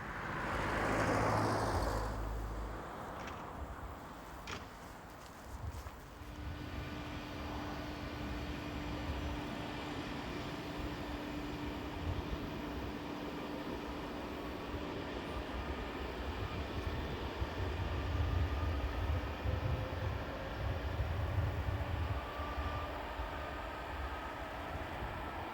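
Locomotive-hauled train on the Tatra Mountain line in Slovakia, a long steady rumble and clatter of wagons rolling past at a distance, with a sustained tonal whine from the loco, moderately faint and continuous.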